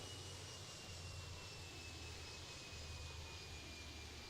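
A jet taking off in the video game Airport Madness 3D, a constant low engine roar with a high whine held evenly from start to finish, with no speech over it.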